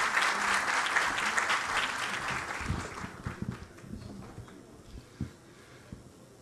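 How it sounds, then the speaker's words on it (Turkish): An outdoor crowd applauds at a groundbreaking ceremony for a wastewater and rainwater line in Kadıköy, Istanbul. The clapping is fairly distant, fullest for the first few seconds, then thins to scattered individual claps. "Sayın Şerdil Dara Odabaşı alkışlarla mikrofonumuza davet ediyorum."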